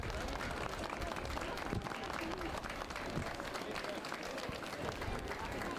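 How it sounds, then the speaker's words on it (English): A crowd applauds the civil defence team passing in the Cavan Town St Patrick's Day parade, scattered outdoor clapping and crowd noise held at a fairly low, steady level. "Big round of applause for them."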